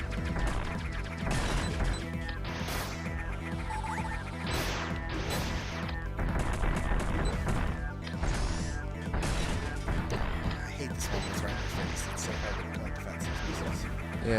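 Boss fight in the video game AM2R, with repeated beam and missile shots cracking and smashing in quick bursts over a busy, steady backdrop of game sound.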